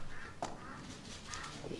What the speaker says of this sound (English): There's a duck quacking in there somewhere.